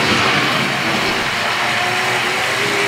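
A Hornby Triang model train set runs on its track, producing a loud, steady whirring rumble heard up close without pause, with no voices.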